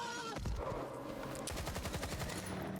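Gunfire in the video game S.T.A.L.K.E.R. 2, a burst of rapid automatic shots following an earlier single crack, fairly loud and close with no talking.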